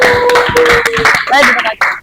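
Classroom clapping for a student group, scattered close hand claps mixed with students' voices and chatter, loud and uneven over about two seconds.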